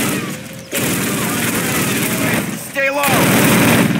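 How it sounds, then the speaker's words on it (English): Loud, continuous machine-gun fire rattles over a training course in the 2003 PC game Call of Duty, close and dense rapid bursts with brief gaps, while a voice barks an order. "Sergeant, fire up those machine guns."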